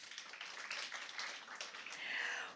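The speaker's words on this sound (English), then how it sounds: "Round of applause." Audience applause at a Caribbean secondary-school impromptu speaking competition, a steady crackling wash of clapping that holds for a couple of seconds and swells slightly toward the end.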